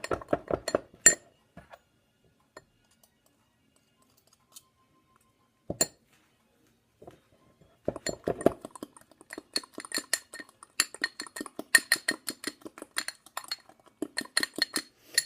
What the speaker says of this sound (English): we're going to mix that all together, and it's going to make a chocolate faux bran muffin